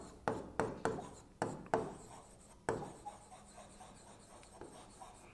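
Chalk or marker strokes scratching across a board during a pharmaceutical chemistry lecture, a series of short rubbing strokes in bursts, fairly close and moderately loud, with no talking over them.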